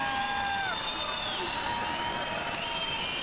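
Distant crowd in a judo arena during a European championship match in Paris, a faint wash of cheering and murmuring voices with a few whistles rising over it.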